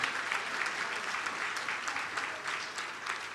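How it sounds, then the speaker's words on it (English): Audience applause at a 60th birthday conference, a steady roomful of clapping hands filling the whole stretch at moderate loudness, with no voices over it. "I think she deserves a better round of applause than that."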